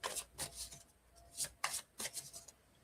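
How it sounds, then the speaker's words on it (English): Tarot cards being shuffled by hand in bursts of crisp riffling and soft rubbing, several separate shuffles close to the listener in a quiet room. "I'm shuffling away"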